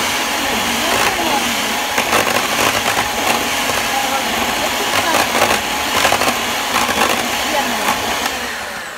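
Cream cheese, eggs and sugar for a cheesecake being beaten with an electric mixer or blender, a steady loud motor whir running the whole time with slight surges.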